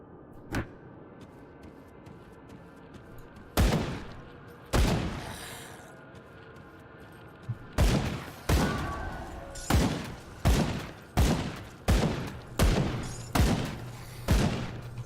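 Gunfire in the action RPG Grim Dawn: a string of sharp, loud shots, sparse at first and then coming in a quick steady rhythm, each with a short booming tail over a low ambient bed.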